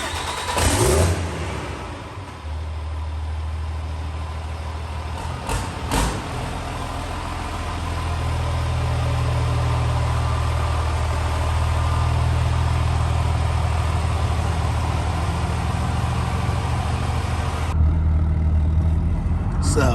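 A Ram 2500 pickup with long-arm suspension and traction bars cruising along, its engine a steady low drone with road rumble throughout, a brief rev near the start.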